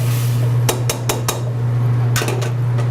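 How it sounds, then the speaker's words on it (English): Metal utensil against a pan while Cabernet Sauvignon is stirred in to deglaze: several sharp clinks and scrapes in loose rhythm over a steady low hum, no voices. "what I'm adding is Cabernet Sauvignon. We'll give that a little stir"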